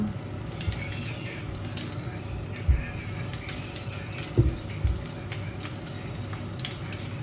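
Garlic sautés in a little pork belly oil, a steady close sizzle and frying hiss with a few clanks of a utensil stirring against the pan.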